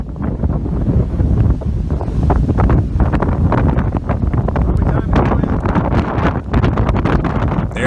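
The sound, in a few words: strong wind at the ocean's edge in Guam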